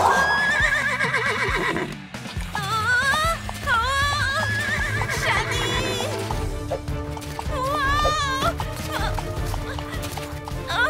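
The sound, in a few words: horse neighing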